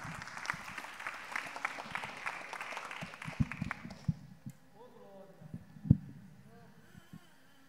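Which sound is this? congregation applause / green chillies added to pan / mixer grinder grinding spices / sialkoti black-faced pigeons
congregation applause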